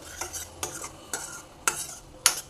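A spoon stirs salted kofta curry gravy with garam masala in oil-separated masala in a pan, making five evenly spaced scraping strokes over a soft sizzle.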